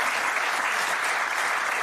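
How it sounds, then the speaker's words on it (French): A studio audience breaks into loud, even applause, a dense wash of clapping that holds steady for the whole moment. "Vous voyez les applaudissements"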